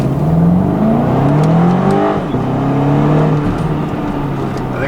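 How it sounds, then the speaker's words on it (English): Engine of a stock 2011 BMW X5 M accelerating hard, revving up and dropping pitch through a gear change, loud and close with a continuous whir, while a tire chirp cannot be clearly picked out. "I think it just chirped a tire going into second gear"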